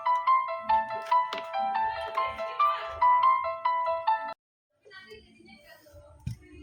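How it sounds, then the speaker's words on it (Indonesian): A phone rings with an incoming call next to a Sony A7 II camera: a loud, repeating electronic ringtone melody lasting about four seconds, then a short silence and fainter, softer tones with some background noise. "barusan ada telepon masuk"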